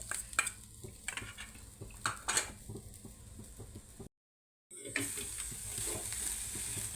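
Jaggery and coconut stirred and sautéed in a pan, with close scraping strokes and a soft sizzle, a brief gap of silence midway, then steady frying hiss continuing to the end.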